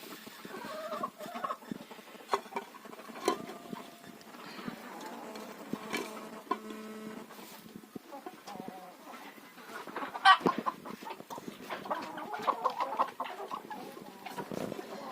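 Farmyard hens cluck and chatter softly while being fed sprouted grain, with scattered overlapping calls and occasional louder squawks at moderate distance over a quiet rural background.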